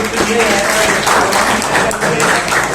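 Applause for a teacher's birthday at an Urdu school gathering, a steady wash of clapping from a crowd that holds at a constant loud level, with some talk mixed in underneath.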